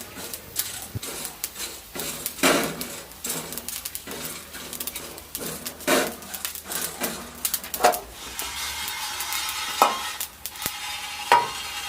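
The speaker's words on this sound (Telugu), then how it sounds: "ధనియాలు కొంచెం వేగినాక అందులోనే కొన్ని జీలకర్ర కూడా వేసుకోవాలి" Coriander seeds and cumin roasting in a pan over a wood-fired stove, with intermittent sharp scrapes and clinks of a spoon against the pan and a soft crackle, while birds are faintly heard in the background.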